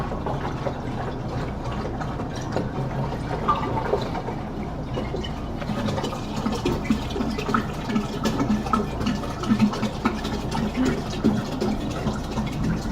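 Water runs into a 1 gallon home-brewing keg, a continuous splashing fill with small gurgles and bubbling throughout, fairly close and without talk.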